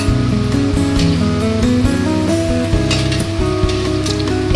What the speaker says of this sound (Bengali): আমরা ছোট ছোট করে রসবড়ার আকারে তৈরি করে নিয়ে তেলে দিয়ে দিচ্ছি।